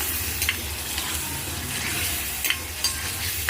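Tomatoes with spices, coriander powder, salt and a little sugar frying in a pan and being stirred, a steady broad sizzle with occasional scraping strokes of the spoon, close up with no talk.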